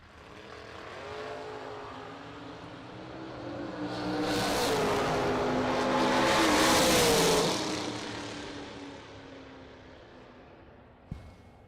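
Chevrolet Beretta and Camaro racing side by side on a drag strip, engines building from a low rumble to a loud roar as they pass close, then fading, with a sharp knock near the end.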